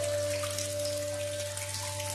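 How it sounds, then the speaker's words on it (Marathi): Natural water steadily falling into an old stone stepwell at Virgaon, built by Ahilyabai Holkar, giving a continuous splashing wash with a low steady hum underneath, no voices. "हे जे पाणी पडतंय ते नैसर्गिक पाणी आहे."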